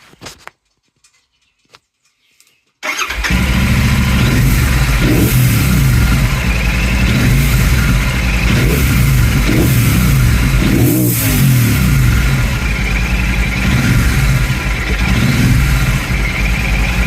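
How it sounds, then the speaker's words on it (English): Royal Enfield Super Meteor 650 fitted with a DNA air filter: a few faint clicks, then the engine fires up loud and close, idling and revving in repeated swells with a sharp rise near the end. "we shall do some revving and see if it's made a difference to the noise"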